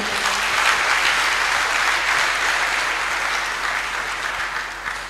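A church congregation applauds, a steady loud wash of many hands clapping that holds throughout and eases slightly toward the end, with no voices standing out.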